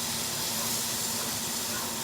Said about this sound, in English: we got a nice initial sear going on all of these steaks